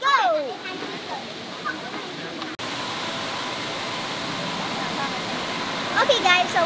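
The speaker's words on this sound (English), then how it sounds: "so right here is the first layer of waterfalls" Steady rush of the first tier of Erawan Falls in the Thai jungle, a continuous broadband roar of falling water filling the whole clip, with faint voices and birdlike chirps briefly over it.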